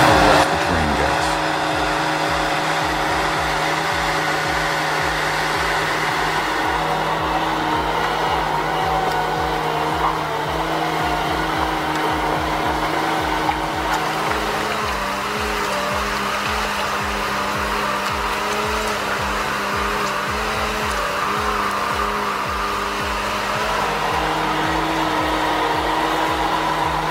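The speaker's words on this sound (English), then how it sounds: "The Logset 6FGT is a beast of a machine that will keep your logging operation running smoothly, no matter how rough the terrain gets." A Logset 6FGT forestry logging machine running, its engine giving a loud, steady, continuous drone with a faint rhythmic mechanical pulsing underneath that does not let up.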